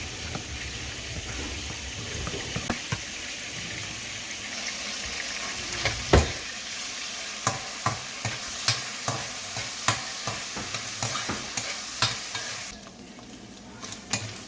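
A spoon stirring pasta frying in a pan as white pepper goes in while cooking Thai-style pasta, a constant sizzle with a series of sharp, regular scrapes and clacks against the pan.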